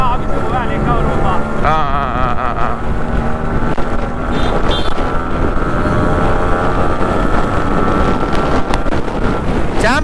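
A Yamaha RX100 motorcycle engine runs steadily, loud and close, with a dense continuous drone and some wind noise over the microphone.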